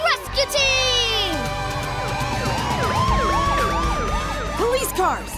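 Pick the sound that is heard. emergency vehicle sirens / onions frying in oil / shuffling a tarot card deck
emergency vehicle sirens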